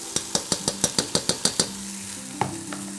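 Drained rice goes into hot oil in a pan and is stirred, with a rapid run of about ten sharp spoon-on-pan scrapes over a steady sizzle, then a couple of slower taps.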